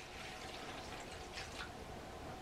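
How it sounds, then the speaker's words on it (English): Water poured into the bottom of an indoor seed-starting tray, a steady close liquid splash and trickle filling the tray without a break. "I just bottom fill the tray to about"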